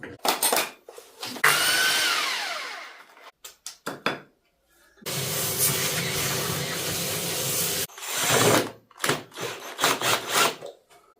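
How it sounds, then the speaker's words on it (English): A power drill fitted with a larger bit bores into wood for a bench seat, starting and stopping in several loud bursts of whirring and grinding, one lasting about three seconds, with quiet gaps between. "I can use the bigger drill bit"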